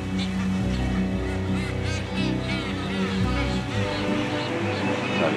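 Geese honk repeatedly over a steady low rumble, with voices talking now and then in the background, on Clipperton Island in the Pacific after a storm.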